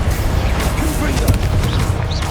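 A Confringo blasting spell goes off in Hogwarts Legacy, giving a dense, loud burst of rumbling, crackling blast noise that fills the whole clip with steady low boom and scattered sharp cracks.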